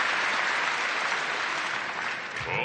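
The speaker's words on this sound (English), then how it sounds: "Just applauding." A tennis crowd at the 2019 Stuttgart quarterfinal, Osaka against Vekic, bursts into steady, full applause after a strong serve from Vekic. The clapping stays dense and loud throughout, then eases slightly near the end.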